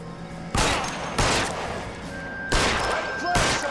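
Gunfire in the video game L.A. Noire: four sharp, loud shots spaced about a second apart, each bursting out and ringing briefly before fading into a quieter background.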